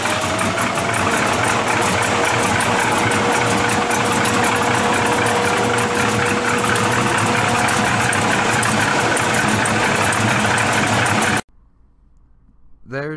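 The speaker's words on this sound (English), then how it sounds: "Under the hood we have a 383 stroker motor backed by a 700 R4 4-speed" A 1966 Chevrolet C20 pickup with a 383 stroker V8, Holley four-barrel carburetor and aluminum heads idles loudly and steadily up close, with a lumpy throb, before cutting to near silence at the end.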